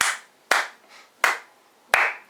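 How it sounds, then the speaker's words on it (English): Four sharp, loud hand claps ring out close by in an uneven rhythm, each followed by a short decay with quiet gaps between, and no voices. "I'm clapping"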